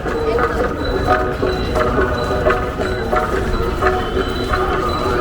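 A train rumbles and clatters steadily across a bridge, loud and close, with rhythmic metallic knocks and a faint whine over the din.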